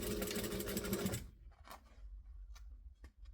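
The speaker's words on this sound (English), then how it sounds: "And then I'm just going to squish it down, line it up and stitch across." A sewing machine runs in a fast rapid whirring burst stitching across fabric for about a second, then stops, leaving faint clicks and handling sounds.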